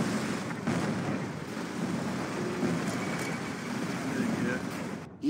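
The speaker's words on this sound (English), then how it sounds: "Initiating bombardment" Artillery bombardment in the strategy game Rise of the Reds, a continuous low rumble of distant shelling and blasts with unit voice lines mixed over it, ending in a sharp sudden burst.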